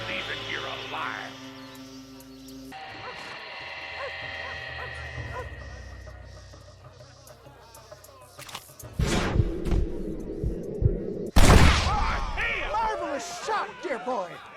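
Gunfire in a Red Dead Redemption shootout: a few loud, sharp shots and impacts crack out in the second half over a game soundtrack, with a voice speaking as the exchange winds down.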